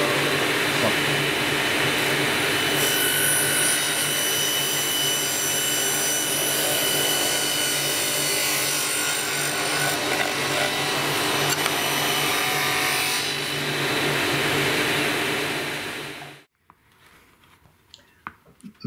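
A power table saw blade cuts through wood for a Swiss Army knife box, a loud steady whine with grinding and rasping that holds for about sixteen seconds, then stops abruptly, leaving a few faint clicks and knocks.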